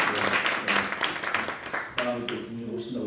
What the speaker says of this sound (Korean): 우리 다시 한번 우리 목사님 박수로 한번 청해할까요?